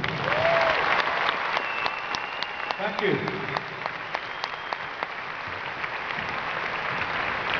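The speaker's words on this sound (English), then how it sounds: "I think another round of applause, please." Sustained applause from a large crowd at the Echo Arena, Liverpool, during a live tribute concert, dense clapping throughout, with a brief word of thanks spoken over it.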